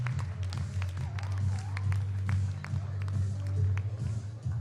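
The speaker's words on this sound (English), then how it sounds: "A big round of applause to the women's team" An audience gives scattered applause for the women's squash team at a Squash Eredivisie event at the Frans Otten Stadion. The claps are light and uneven over a steady low hum and murmuring voices.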